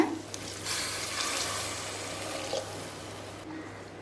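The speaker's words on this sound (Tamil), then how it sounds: "அடுத்தது 3 கப் தண்ணி சேர்த்துக்கலாங்க." Three cups of water pour into a pot of yogurt-sautéed vegetables for biryani, a steady, close splashing rush lasting about three seconds before cutting off.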